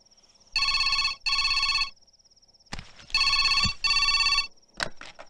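A telephone rings loudly in two pairs of trilling bell bursts separated by a pause, with clattering knocks and a faint steady tone between the rings.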